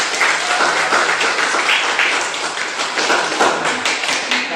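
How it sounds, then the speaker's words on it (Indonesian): Students in a classroom clapping together, a dense, steady burst of applause close by that continues throughout. "Tepuk tangan juga kalian semua."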